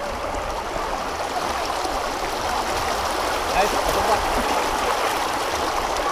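A flowing stream heard while standing in the middle of the water on a New Year's Day family outing: a steady, broad rushing wash that fills the whole clip, with people talking over it.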